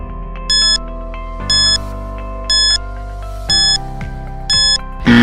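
A quiz countdown timer plays a steady musical loop under bright bell-like chimes that repeat about once a second, with a louder burst at the very end and no voices.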